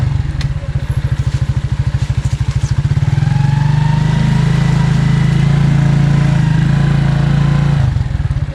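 A motorcycle engine runs loudly and close during a ride on Cap Santa Clara, first with a rapid pulsing beat, then holding a steady higher drone before easing off near the end.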